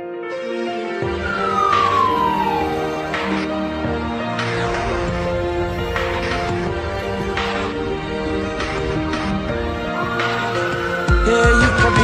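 A Columbus fire engine, running as a spare apparatus, responds to a medical emergency with its siren. Loud, sustained wailing tones fall early on, then rise again near the end, layered over a dense, steady mass of harmonic sound.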